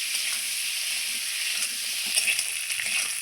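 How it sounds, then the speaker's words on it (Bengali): Squash and potato pieces sizzle steadily in hot oil with salt and turmeric, a continuous close frying hiss with faint stirring ticks and no voices. "দিয়ে কোয়াশ আলুটা আমি একটু ভেজে নেবো"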